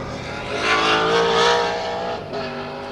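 A small-block Corvette and a Mustang race at Portland International Raceway in a historic event. A loud, high-revving engine roars close by, swelling as it passes and then shifting gear near the end.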